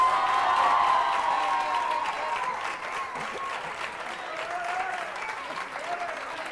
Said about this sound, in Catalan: Per tant, Cristian, Gemma, Judit, aquest aplaudiment és per vosaltres.